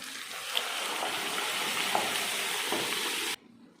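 Mustard seeds, cumin, onion, green chillies, curry leaves and asafoetida sizzling in hot oil for tomato paruppu, a steady close hiss with faint pops that runs on, then drops away sharply near the end.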